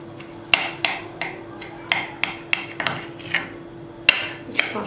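A knife cuts through a stack of thin crepes, giving a series of about a dozen sharp taps against a surface in an uneven rhythm, close and fairly loud, with a low steady hum underneath.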